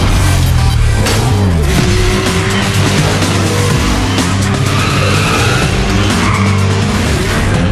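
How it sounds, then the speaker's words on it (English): A car drifting in the racing game Need for Speed: Shift, its engine roaring loudly while long tire squeals and skidding screech continuously over the whole stretch. "Use the handbrake to kick off the drift, then feather the throttle and brake to maximize it."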